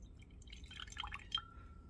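Copper sulfate solution is poured into a glass beaker, giving faint, scattered drips and small splashes over a quiet background, with a brief brighter drip near the end.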